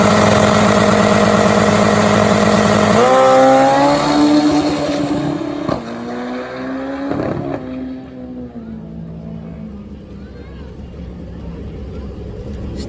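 A turbocharged, alcohol-fueled 1800cc drag racing motorcycle engine runs loud and close, its strained tone dropping as the rider shuts it off and the engine winds down to a rough, fading idle.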